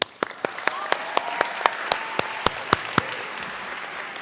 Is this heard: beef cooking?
no